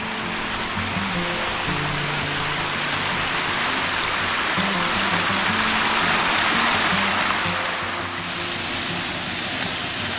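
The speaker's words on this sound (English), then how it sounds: "enjoy the creek rolling by here" Mountain creek rolling by beside a trailside campsite, a steady broadband rush of flowing water that fills the whole stretch evenly and close, with no voices.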